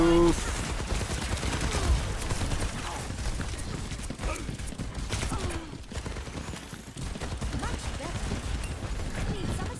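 Rapid gunfire in a shooter video game, bursts of sharp repeated shots with scattered single reports, fairly quiet under a busy mix of game sounds.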